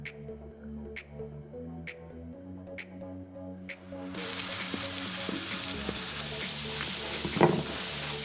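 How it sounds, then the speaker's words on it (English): Sliced zucchini sizzling in olive oil in a grill pan: a steady, moderately loud hiss of frying that starts abruptly partway through, over faint background music. "Add a little bit of olive oil to your favorite grill pan, as well as the zucchini, and allow it to cook"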